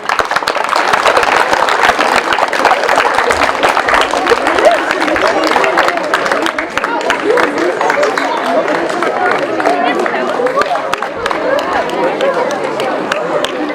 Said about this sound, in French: on peut vraiment chaleureusement les applaudir